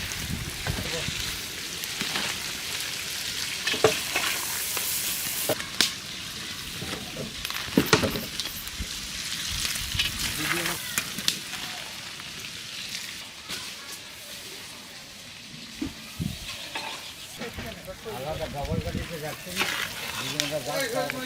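Giant prawns sizzle and spatter in hot oil in a pan during village outdoor cooking, stirred with a utensil, giving a steady crackling fry with occasional sharp clinks and scrapes.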